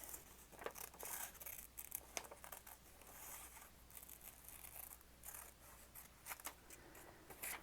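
Scissors snipping through paper up close, a faint, steady run of crisp cuts and rustles for several seconds with no talking.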